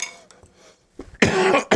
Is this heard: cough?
yes